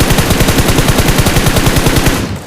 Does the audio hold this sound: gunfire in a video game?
yes